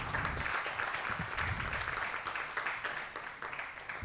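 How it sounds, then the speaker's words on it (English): An audience at a literary event honoring an Aboriginal poet applauds steadily, dense clapping from a crowd heard at moderate distance throughout, fading slightly near the end. "Des applaudissements s'il vous plaît pour Ali."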